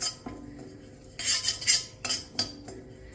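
A metal spoon scrapes and clinks against a pan while rasam powder spices dry-roast without oil, giving several sharp, close scraping bursts between quieter pauses.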